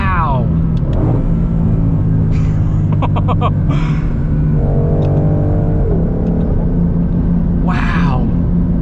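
A 2022 Shelby GT500 muscle car engine rumbles loud and steady from inside the cabin while driving, with brief voice sounds over the drone.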